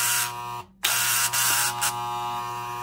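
A Powr-Kraft linear brushless finish sander runs with a steady, loud electric buzz, close by, its drone dipping briefly once and wavering slightly as the grip shifts.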